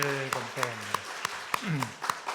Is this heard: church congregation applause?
yes